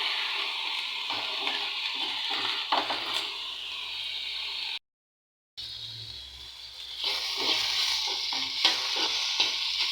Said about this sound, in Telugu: వంకాయ ముక్కలు బాగా వేయించుకోవాలండి.